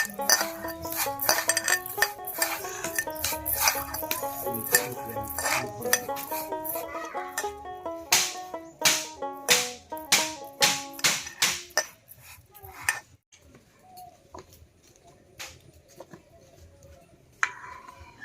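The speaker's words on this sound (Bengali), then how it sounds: "এই চালটা এখন আমি ঘি দিয়ে একটু মাইখে নেব।" Gobindobhog rice is stirred with homemade ghee in a metal pot, producing a busy run of sharp clinks and taps from a utensil against the pot, dense at first, then sparser and quieter with scattered knocks.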